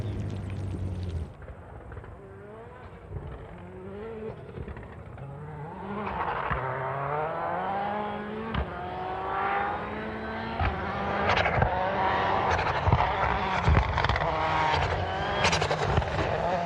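Skoda AP4 rally car accelerating through a tarmac hairpin, engine note climbing and falling through gear changes, loud and close with sharp pops and tyre noise, no talk over it.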